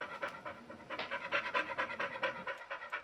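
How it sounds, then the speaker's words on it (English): A dog pants right into a close studio microphone, a fast, even rhythm of breathy huffs, loud and alone with no other sound behind it. "And then here's Sweets panting"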